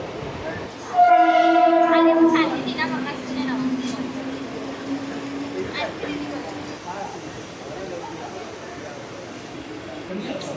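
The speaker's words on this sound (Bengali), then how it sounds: "লোকাল ট্রেন নিয়ে পৌঁছতে চলেছি চার্চ গেট রেলওয়ে স্টেশনে" A Mumbai local train's horn blasts loudly for about two seconds, then the rumbling clatter of the moving train continues, with a voice talking over it.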